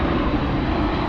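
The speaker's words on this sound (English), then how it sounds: "Queen of the Skies flying back to South Korea." A Korean Air Boeing 747 departs LAX bound for South Korea, its engines giving a steady, loud, broadband roar through the whole short stretch with no voices.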